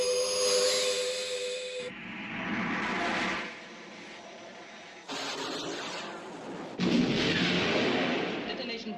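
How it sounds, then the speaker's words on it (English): A missile launch effect from the UFO television series rings out as a sharp whistling tone that cuts into bursts of roaring, hissing rocket blast, moderately loud and broken into several separate surges. "Commencing missile sequence. Firing"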